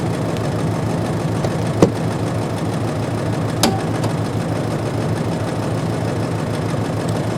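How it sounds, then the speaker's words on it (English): The engine of a Subaru GL idles steadily and close by for several seconds, a continuous low even hum with a couple of brief clicks and no talking. "I guess I'll show off the motor really quick."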